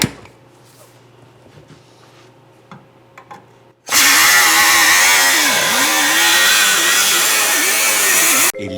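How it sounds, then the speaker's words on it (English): A power tool cutting through the rear cross member of a DeLorean during a Kia Stinger V6 turbo engine swap, starting abruptly after quiet shop noise and grinding loudly and steadily for about five seconds with a wavering pitch. "He's going to cut right along the top of that tape and then cut along this line and kind of cut that section out."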